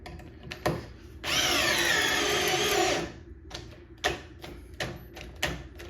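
A Makita cordless driver on clutch setting 2 drives a screw into wood in one loud buzzing burst of about two seconds, surrounded by clicks and knocks of handling.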